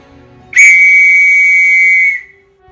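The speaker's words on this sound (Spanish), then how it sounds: "un silbato agudo cortó el aire" A sharp, high whistle blast signalling the start of a race, one sustained piercing tone of about a second and a half that cuts in suddenly and stops abruptly, loud and alone.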